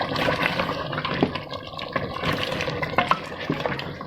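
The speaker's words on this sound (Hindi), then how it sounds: "इसमें मैं डालती हूँ पानी, जिसका शोरबा बन जाए।" Water is poured into a pot of browned beef trotters for paya, a Pakistani stew, giving a continuous splashing, bubbling gush with a few sharper sputters, close by and with no talk.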